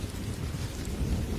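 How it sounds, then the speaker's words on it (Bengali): Low rolling rumble of thunder with a soft steady wash of light rain, continuous and fairly close throughout a short stretch. "আকাশে তখনও মেঘ ডাকছে, ঝিরিঝিরি বৃষ্টি পড়ছে।"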